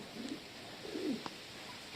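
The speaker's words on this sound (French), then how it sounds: "j'ai un mâle qui roucoule là-bas." A male pigeon in an outdoor aviary on a hot day coos softly a few times, low and faint, at a short distance against quiet background noise.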